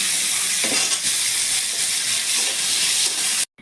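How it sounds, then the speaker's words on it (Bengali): Potatoes fry in hot oil, a loud, continuous hissing sizzle with a few soft stirring knocks, stopping suddenly at the end. "আলুগুলো ভেজে নিচ্ছি।"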